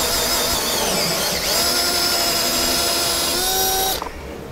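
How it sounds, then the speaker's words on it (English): A power drill with a 17/32 bit bores through a GMC Sierra truck frame, a loud steady high whine that holds for about four seconds and then cuts off abruptly. "now you can go back through and drill with your 1732 drill bit."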